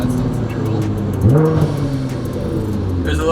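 A Nissan GT-R fitted with a Linney drag exhaust revs close by, a steady low rumble with one rising rev swell near the middle and faint crackles over the top.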